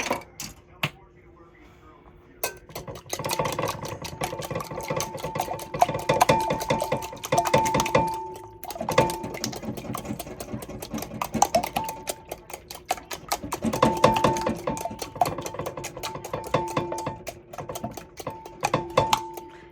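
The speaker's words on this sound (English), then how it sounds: "I am just going to beat this with a whisk" Lithuanian kugelis mixture of grated potato and evaporated milk beaten in a bowl with a whisk, rapid metallic clinking and tapping in bursts, close, with a short quiet start.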